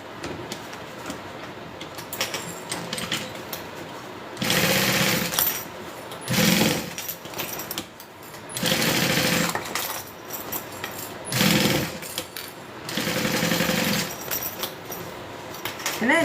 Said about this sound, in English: I'm going to go ahead and sew these two pieces together along the bottom to combine the fabric.